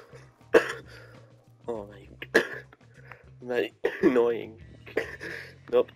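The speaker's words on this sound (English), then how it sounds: "Stop coughing." Repeated coughing and throat clearing from a player in a Rec Room game session, several short harsh bursts close to the mic, mixed with speech between them.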